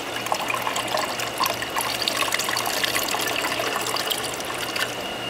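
Water poured slowly from a plastic milk jug into a hydrostatic pressure apparatus tank makes a steady splashing trickle, continuous and close, with a faint hum underneath.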